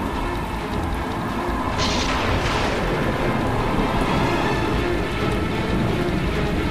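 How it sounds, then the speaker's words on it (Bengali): Heavy rain hammers down in a storm while a lightning strike cracks and thunder rumbles through it, the roar of rain steady and loud from start to finish, with no voices. "হঠাৎ করে আকাশ ভেঙে বাজ পড়ল অশ্বত্থ গাছের মাথায়।"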